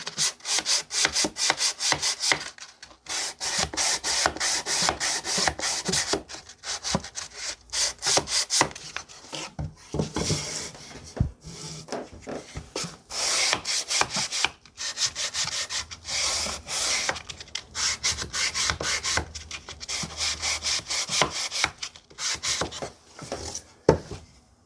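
Sandpaper rubs back and forth on the corners of a wooden jewelry box by hand. The close, raspy strokes repeat steadily for about twenty-five seconds, with brief pauses and no speech.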